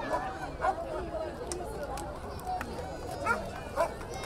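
A police dog barks several times at a public outdoor event in San Juan de Lurigancho, the sharp barks rising over steady crowd chatter and loud amplified talk.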